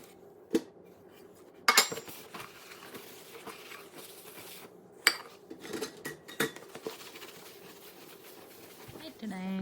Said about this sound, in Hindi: तो ये सारे बर्तन लगाती हूँ क्विकली